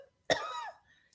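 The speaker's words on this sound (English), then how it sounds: "Okay, so cough again." A single close, forceful cough, one sharp burst trailing into a short raspy tail, heard alone in a quiet room.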